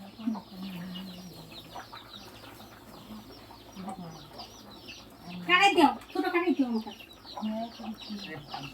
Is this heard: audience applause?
no